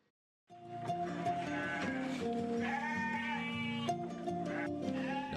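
Goats and sheep on a farm in Pati regency, Indonesia, bleating in overlapping, wavering calls that start after a brief silence and continue steadily, fairly close and loud.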